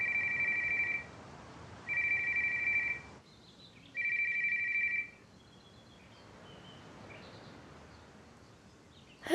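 A telephone rings three times in even bursts, each about a second long with pauses between them. The ringing is fairly loud and close, followed by quiet and a sharp sound at the end.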